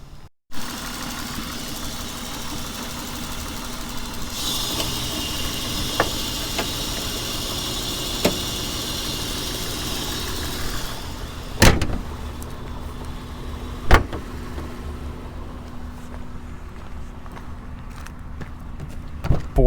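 A car engine idling steadily before a test drive, a constant low rumble with a hissing band partway through and a few sharp clicks and knocks, with no talk.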